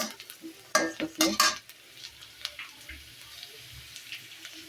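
A spatula clatters and scrapes against a pan of frying chickpeas on a small village stove, a burst of louder stirring strokes early, then softer scrapes over a faint sizzle, no talking.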